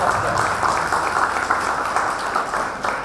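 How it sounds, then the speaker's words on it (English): Audience applause in a hall at an international conference, a dense steady wash of clapping from many people, loud and sustained with a faint voice underneath. "Please join me in giving yourself a round of applause."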